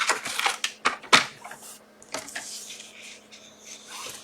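Card stock for card making is cut on a paper trimmer: a few sharp, close slicing and clacking strokes in quick succession, followed by quieter rustling and handling noises.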